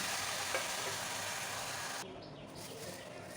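Mango pieces, sugarcane juice and date-palm jaggery cooking in a pan for mango pickle, giving a steady broadband sizzle that drops a little in level partway through, with no talk.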